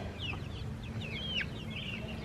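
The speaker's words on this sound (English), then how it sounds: "But here are our smaller chickens." Chickens cluck softly and steadily over a low rumbling background, with a few higher squawks rising now and then, fairly close by.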